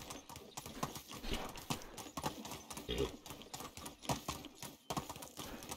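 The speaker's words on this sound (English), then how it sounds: "Come on, horsey. Move, horsey. Giddy up." Horse hooves clip-clop at a steady walking rhythm in the Medieval Dynasty video game, close and moderately loud, a repeated run of hoof strikes over faint background ambience.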